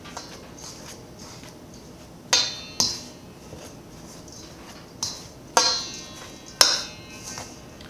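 Utensil mashing butter into an apple crisp crumble topping in a bowl, heard as a few sharp clinks and scraping knocks against the bowl in two loose clusters over quiet background.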